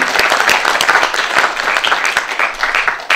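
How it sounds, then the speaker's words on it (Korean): Crowd claps to welcome guests at a Korean art song memorial concert honoring composer Lee An-sam, a lively applause of many hands with distinct individual claps standing out, close and loud, continuing throughout. "큰 박수로 보내주시기 바랍니다."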